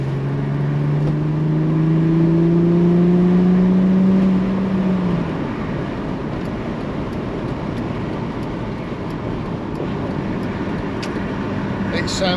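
A car cruises at 60 with a wind deflector fitted, its engine drone and road rumble steady inside the cabin, an engine tone sliding down during the first few seconds.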